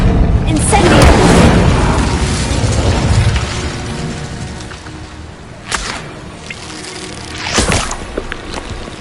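Spell blasts in a Harry Potter video game, the Incendio fire spell among them: a loud roaring burst in the first few seconds, then two sharp whip-like cracks later on, with game ambience underneath.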